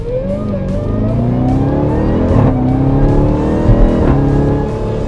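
A white 2018 Jeep Cherokee Trackhawk engine revs steadily at roughly half throttle, a loud, continuous rising drone with climbing harmonics and no talking.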